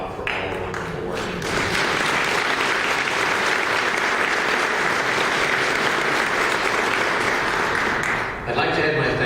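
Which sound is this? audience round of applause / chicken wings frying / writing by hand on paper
audience round of applause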